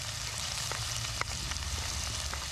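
Mushrooms fry in a pan for a medieval-style dish, giving a steady, soft sizzle with a few faint stirring clicks.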